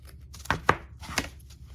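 Fabric strip cut with scissors or a blade for a five-hole pamphlet binding, three quick, faint, close snips in a quiet room.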